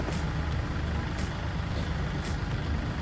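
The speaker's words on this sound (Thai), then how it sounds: "เครื่องติดง่ายนะครับ" A used Kubota L4018 farm tractor engine runs at a steady idle, a dense continuous low diesel rumble heard close up, unchanging throughout.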